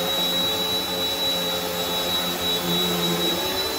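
A Bissell 2252 CleanView swivel upright bagless vacuum cleaner runs on its medium setting with a steady, loud motor whine and rushing airflow. It stays close and continuous, with no talk.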